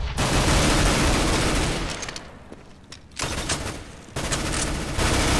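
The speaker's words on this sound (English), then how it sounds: "I hear gunshots." Gunfire from the video game CS:GO, loud rapid bursts of automatic shots with short gaps and a brief lull midway before firing resumes, close and dominant with no speech.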